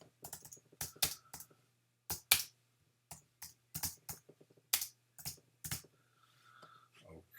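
Computer keyboard typing while adding a watermark in an image editor: bursts of crisp key clicks in short irregular runs with pauses, close and fairly quiet, over a low steady hum.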